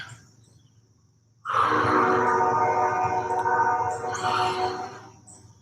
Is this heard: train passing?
yes